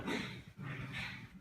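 Pet dogs fight at close range with harsh, continuous snarling growls that break off briefly before a second burst.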